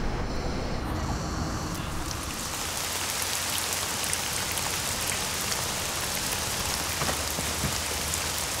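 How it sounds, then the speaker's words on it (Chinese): Heavy rain pours down in a steady, dense patter of drops striking surfaces, loud and close, continuing unbroken with no voices. "下那么大雨还去？"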